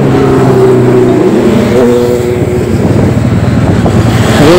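Kawasaki Z900 motorcycles pull away with a loud, continuous engine roar that rises as they rev and accelerate, heard close and steady without any talking.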